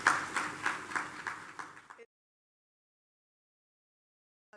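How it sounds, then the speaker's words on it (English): Audience at a teachers' association annual conference gives a short burst of rhythmic clapping for about two seconds, then silence, with a faint return at the very end. "Yes, you can give a round of applause for that."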